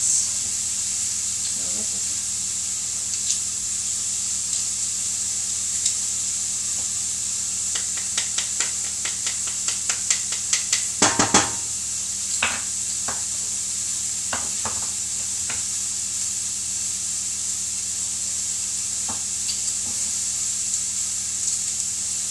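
Fresh garlic cloves sizzling in a pan, a steady close hiss of frying with a cluster of clattering taps and scrapes from a utensil in the middle, and no talking.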